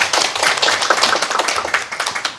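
An audience at a 2021 results-report meeting claps loudly and steadily for a presenting professor, a dense burst of close hand claps lasting a couple of seconds with no voices.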